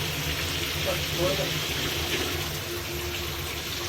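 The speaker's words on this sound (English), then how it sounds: "Show them what the water pressure looks like." Water gushes from a household tap or fixture after a DIY water pressure fix, a steady broadband rush that runs throughout while people talk over it.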